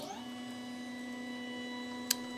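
A liveprinter-controlled 3D printer runs with a steady motor whine and low mechanical hum, with a brief faint click near the end.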